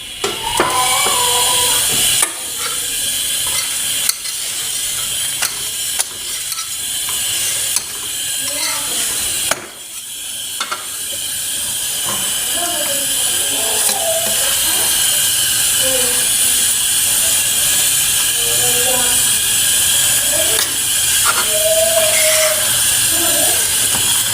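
Aloo methi paratha cooks on a hot pan with ghee, a steady bright hiss with scattered clicks and scrapes from handling, close and loud, with a voice speaking at times.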